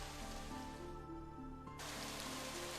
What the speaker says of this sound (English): Rain begins to fall